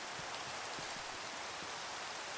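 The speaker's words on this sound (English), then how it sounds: "Oh, it's raining." Steady rain falls in a modded Minecraft world, a soft, even hiss with faint scattered drop ticks, continuous and fairly quiet throughout.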